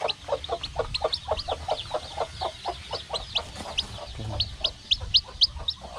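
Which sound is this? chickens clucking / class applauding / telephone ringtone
chickens clucking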